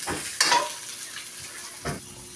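Lemongrass being sautéed in a pan for a beef offal dish, with a steady close sizzle and two louder clattering stirs of a utensil against the pan.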